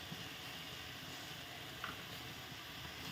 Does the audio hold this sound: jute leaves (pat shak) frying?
yes